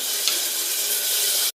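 Washed goat tripe (boti) frying in a pan with ginger garlic paste and turmeric, giving a loud, steady close sizzle that cuts off abruptly.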